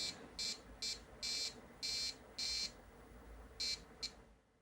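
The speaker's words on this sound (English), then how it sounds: "you can hear the buzzer as well" An Amiga 500 computer's electronic buzzer sounds in a series of short, irregular bursts, some longer and some clipped, fairly faint against a quiet background hum.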